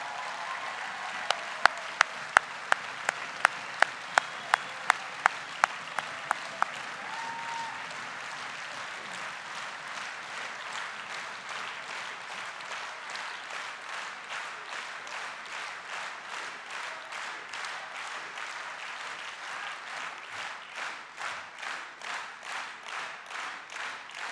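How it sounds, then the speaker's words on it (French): A large audience at a communist party congress closing speech applauds at length, with a few sharp near claps at first giving way to dense sustained clapping that settles into a steady rhythmic beat toward the end. "puisque nous en sommes aux applaudissements"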